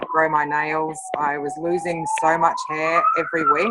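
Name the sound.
siren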